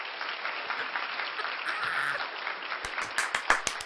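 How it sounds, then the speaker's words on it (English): A crowd gives a round of applause, a broad sustained clatter of clapping that thins toward the end as a few sharper, closer claps and noises break through. "Ladies and gentlemen, round of applause for the bull!"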